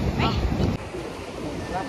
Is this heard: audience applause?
no